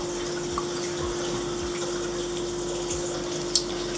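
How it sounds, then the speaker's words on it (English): RO water is poured into a small colorimeter vial and filled to a line, a steady close trickle over a continuous low pump hum, with a couple of faint clinks. "So this RO water, you've just got to fill it up to the white line like so."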